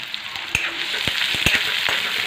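Chopped onion with garlic sizzles steadily in hot oil as a spoon stirs it, a constant close frying hiss broken by a few sharp scraping taps.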